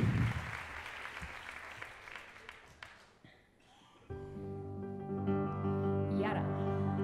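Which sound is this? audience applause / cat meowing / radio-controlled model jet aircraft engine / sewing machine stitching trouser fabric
audience applause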